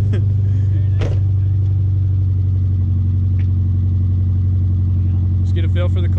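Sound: go-kart engine revving as driver applies throttle

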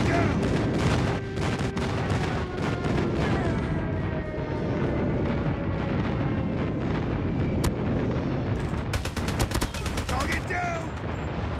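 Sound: airstrike explosions, Call of Duty Mobile video game

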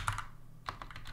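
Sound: typing on a computer keyboard

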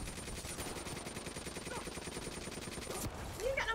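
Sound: gunfire shooting at the player in Call of Duty Black Ops 3 video game

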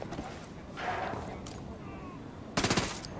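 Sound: gunshot from the video game Ghost Recon: Wildlands

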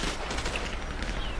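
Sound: gunfire in the video game GTA San Andreas

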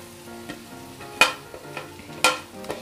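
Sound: crushed boiled potatoes added to the pan and stirred

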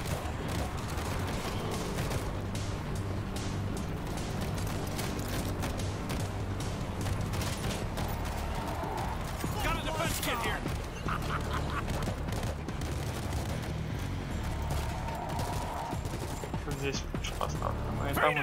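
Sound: gunfire in the video game World War Z

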